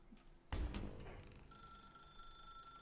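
A telephone in the video game The Stanley Parable starts ringing after a sudden thump, a steady electronic ring tone that holds on at low level.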